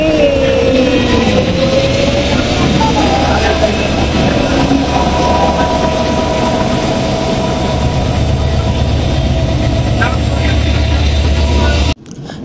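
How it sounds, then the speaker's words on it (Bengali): A passenger train pulls out and runs along the rails, a steady loud rumble with rattling wagons that holds for about twelve seconds before cutting off abruptly. "ট্রেন ছাড়তেছে আস্তে আস্তে"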